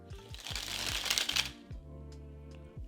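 A deck of playing cards rattles and riffles in a fast V-shaped cascade flourish, a dense burst of crisp fluttering card snaps for about a second and a half, then a few scattered soft taps as the pile settles, close and fairly quiet.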